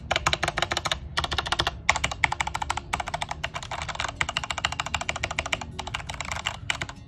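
Rapid, continuous typing on a Corsair K68 RGB keyboard fitted with Cherry Red switches, the keys clicking close and clear in dense bursts with brief pauses, no speech over it.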